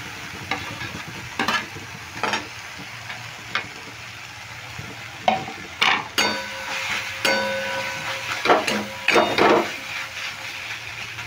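Grated potato is added to a hot pan, then fried and stirred: scraping and clinking strokes come in bursts over a steady background sizzle, close and fairly loud, with no talking.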